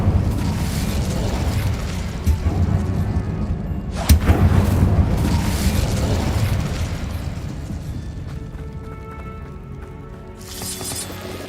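Incendio fire spell cast in Hogwarts Legacy, a loud, sustained roaring burst of flame with a sharp booming crack near the middle, then a crackling rumble that slowly fades, with a brief bright flare near the end.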